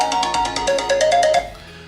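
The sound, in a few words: Ancall find-my-phone ringtone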